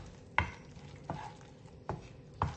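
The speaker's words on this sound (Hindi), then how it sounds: "अब हम इसे अच्छे से मिक्स कर लेंगे" A homemade tandoori dip of garlic mayonnaise and grated cheese is stirred in four slow, evenly spaced scraping strokes, close and moderately loud, with no talk.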